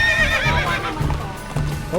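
A horse at a campground gives a loud, close neigh that wavers and falls, with hoof clip-clops and a brief second whinny rising at the end, amid outdoor voices.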